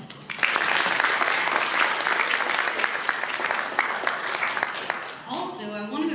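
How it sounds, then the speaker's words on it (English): An audience at a book signing and fashion show event claps in sustained, dense applause, loud and close, fading near the end as a voice begins speaking. "so another round of applause"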